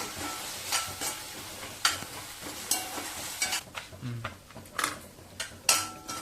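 Onions sautéing in a pan for a beetroot side dish, with a spoon scraping and stirring in irregular strokes over a soft sizzle, close up and moderately loud, with no talk.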